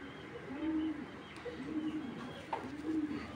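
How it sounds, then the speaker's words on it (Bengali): Racing club pigeons, a male and a female, give soft, low coos in three or so repeated phrases, fairly faint against a quiet background. "রেস করা কবুতর।"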